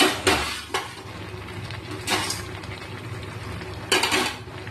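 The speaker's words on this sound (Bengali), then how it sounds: "এর মধ্যে আমি কিন্তু এবার মশলাটাও দিয়ে দেবো, দিয়ে নাড়াচাড়া করতে থাকবো।" A spatula scrapes and stirs a thick mango, jaggery and spice pickle in a pan, giving four distinct scraping strokes over a faint low sizzle, close by and with no talking.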